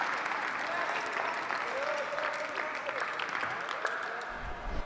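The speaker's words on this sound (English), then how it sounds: "Biggest roar of the crowd for the match so far after that point." A live crowd at a Major League Table Tennis match between Texas and Portland roars and applauds after a long rally, a sustained wash of clapping and cheering with voices rising over it.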